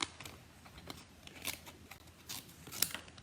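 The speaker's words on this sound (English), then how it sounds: "I'm going to trim this off." Quiet scissors snip and trim card paper, with a few crisp cuts and light paper rustles close by.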